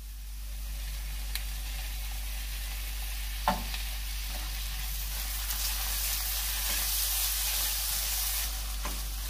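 Chicken masala with yogurt being stirred in a hot pan makes a continuous soft sizzle broken by occasional scraping clicks, over a low steady hum.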